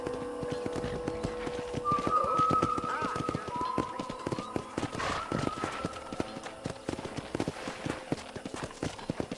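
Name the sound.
horse hooves clip-clopping in video game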